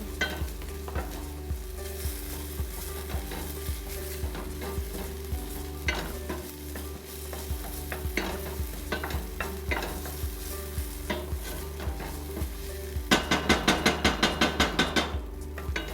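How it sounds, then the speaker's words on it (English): Tomato paste sizzling and browning in a pan for caponata, a continuous close sizzle broken by frequent spoon scrapes and taps, ending in a quick run of loud rhythmic knocks against the pan. "we've got some great browned up tomato paste in our pan now"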